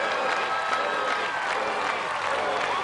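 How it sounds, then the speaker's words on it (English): Crowd cheers and applauds at an American Ninja Warrior obstacle course event, a steady, dense roar of many voices and clapping sustained throughout at fairly close range. "listen to the crowd"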